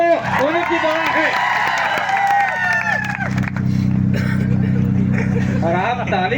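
An audience claps at a political rally, a reservation conference for scheduled tribes, with broad sustained applause and crowd noise filling the second half after a man's amplified speech.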